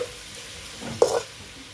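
Wheat flour veg noodles with masala stirred lightly in a pan, a soft quiet scrape and faint sizzle with one brief louder stroke near the middle.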